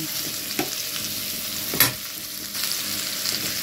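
Bitter gourd pieces sizzle in hot oil with turmeric while a spoon stirs them, giving a close, steady frying hiss broken by a few sharp scraping strokes, with no voices.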